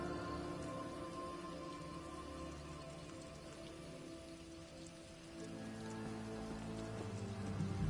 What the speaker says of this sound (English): I could do without this damnable rain.